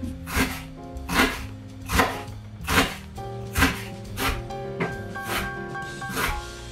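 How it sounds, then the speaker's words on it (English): A knife chops shallot on a cutting board in a kitchen, giving about nine evenly spaced, fairly close thuds with a steady rhythm under faint background hum. "We're gonna chop a little shallot."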